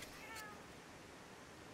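A cat in the Monster Hunter video game lets out one short, angry meow near the start, faint over a steady background hiss.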